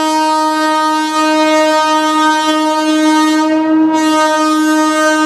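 Long, steady train horn blast from the Ganga Sagar Express standing at platform 4–5 of Jaynagar railway station on the Nepal border, loud and sustained with a rich harmonic tone, briefly dipping near the end.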